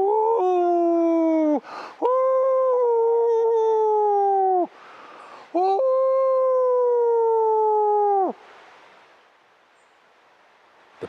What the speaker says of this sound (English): the bone-chilling sound of a howling wolf